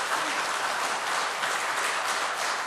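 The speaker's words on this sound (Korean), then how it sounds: "우리 목사님께 박수로 감사를 표하시기 바랍니다" A church congregation applauds to thank the pastor after a sermon, a thick, continuous burst of many hands clapping at an even volume throughout.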